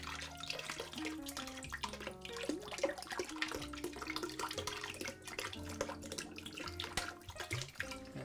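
Diluted bluing water is poured into a washing machine, a soft steady splashing and trickling that runs throughout, faint and alone.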